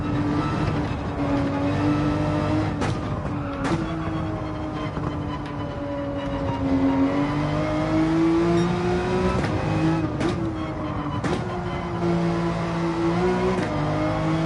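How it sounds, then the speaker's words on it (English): A Porsche 911 engine in the video game Gran Turismo 7 hums and revs continuously, its pitch rising and falling through gear changes, loud and close throughout. "the 911 sounds great, feels great."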